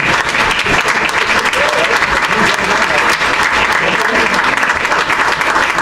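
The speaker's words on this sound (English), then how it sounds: "So let's hear it one more time for the Pappas family" Sustained applause from a large audience, dense clapping that stays loud and steady throughout with a faint murmur of voices.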